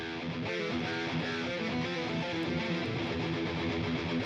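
Dense, saturated electric guitar riff with heavy distortion from the Line 6 Helix Native amp plugin, panned hard right, steady and loud throughout with no pauses.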